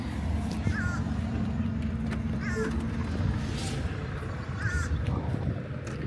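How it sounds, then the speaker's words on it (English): A crow perched up on a tree limb caws three times at spaced intervals, faint and somewhat distant, over a steady low background rumble. "Oh, crow's here too. He's up in the tree limb up there."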